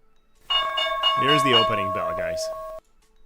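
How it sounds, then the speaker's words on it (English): Stock market opening bell ringing, a sustained electric bell tone lasting about two seconds, loud and close, with a person talking over it. "Here's the opening bell"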